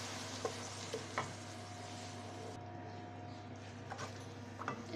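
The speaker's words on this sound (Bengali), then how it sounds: "এবার চুলার আঁচটা বাড়িয়ে দিয়ে আমি মশলাগুলো ভালো করে কষিয়ে নেব" Wet ground spices, premixed with water, fry in a hot pan for a beef head-skin curry, giving a steady soft sizzle with a few faint scrapes of stirring, quiet and without talk.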